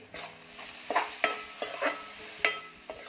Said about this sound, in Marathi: डाळ चांगली परतून झालेली आहे